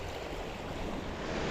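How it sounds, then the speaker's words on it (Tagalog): Strong sea waves around Talim Island in Laguna de Bay surge in a steady, close wash of water with a gusty rumble, continuous and unbroken for the short stretch, rising slightly toward the end. "grabe lakas ng alon"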